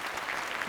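Brief, fairly quiet clapping from an audience at a Bhojpuri film awards show, an even patter of many hands with no one speaking.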